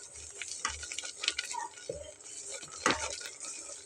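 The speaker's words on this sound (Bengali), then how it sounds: "খুব ভালোভাবে কষে নিয়েছি" Potol (pointed gourd) curry being sautéed in a pan for a vegetarian dish: scraping stirs and soft clinks of a spatula against the pan over a faint sizzle, close and fairly quiet, with no talk.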